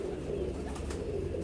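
An aged pigeon coos softly and steadily, low murmuring calls continuing throughout with faint background hiss.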